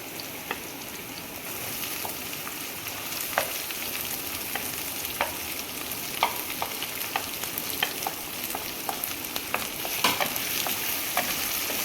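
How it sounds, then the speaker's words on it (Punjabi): Onions fry in a pan for spinach-and-potato curry, giving a steady mid-level sizzle broken by repeated sharp clicks and scrapes of a spoon stirring. "ਹੁਣ ਆਪਾਂ ਇਹਦੇ ਵਿੱਚ ਪਾਣੇ ਆ ਪਿਆਜ਼"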